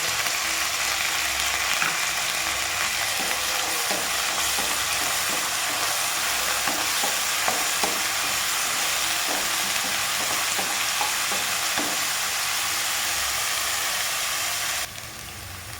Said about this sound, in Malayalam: നമ്മളതിലേക്ക് നമ്മൾ കുതിർത്തിയെടുത്ത തുവരപ്പരിപ്പ് അതുപോലെ കുതിർത്തിയെടുത്ത ഉഴുന്ന പരിപ്പ്